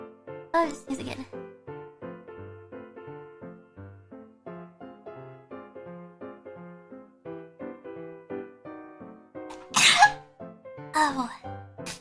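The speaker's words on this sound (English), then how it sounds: "just sneeze again" A voice talks and strains between a few sharp, explosive sneezes, one early and a pair near the end, each bursting out loudly over the quieter speech.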